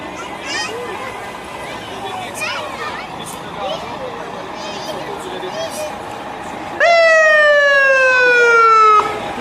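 An ambulance siren wails loudly and close by during a Christmas truck parade, starting abruptly partway through and holding a steady tone for a few seconds, after a stretch of crowd chatter and people talking.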